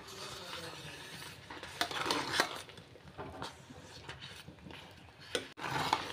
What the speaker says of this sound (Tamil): ஒரு தடவை நல்லா கிண்டி விட்டுக்கோங்க.